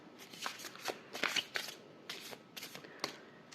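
Oracle card deck being shuffled close by, a series of quick riffling bursts and soft slaps of cards in short, uneven rhythm, quiet and alone without speech.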